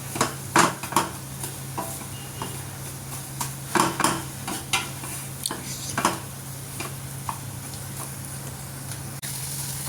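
Semolina and sugar roast in a pan while a spoon stirs, with repeated scraping and clinking strokes in an irregular rhythm over a steady low hum and a faint sizzle.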